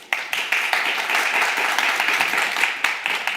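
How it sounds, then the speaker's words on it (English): An audience at a global summit panel breaks into warm applause, a dense, sustained wash of clapping that starts abruptly and holds steady for several seconds, heard from within the hall. "A round of applause for him, please."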